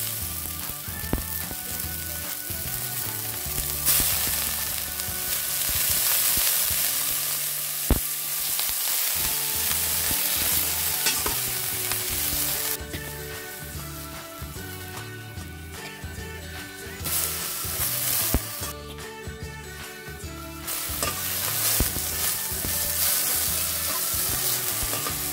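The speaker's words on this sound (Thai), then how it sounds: "ผัดกระเทียมจนหอมแล้วนะคะจากนั้นค่ะเราก็นำต้นอ่อนใส่ลงไปเลยนะคะแล้วก็ผัดคลุกเ" Sunflower sprouts stir-fried with garlic in a pan, sizzling continuously for about 25 seconds with intermittent stirring clatter, with no talking.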